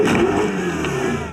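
A Toyota Hilux rally truck that won the 2019 Dakar Rally revs its engine, a loud, steady, close-up roar lasting just over a second with no voices.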